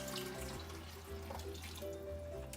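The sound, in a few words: pouring vegetable broth into the pot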